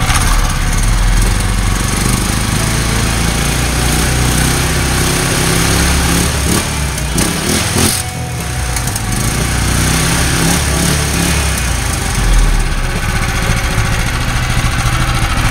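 A Predator 212 small engine with its governor removed screams at high RPM in a loud, steady drone, with a brief dip in pitch midway before it climbs back up. No voices.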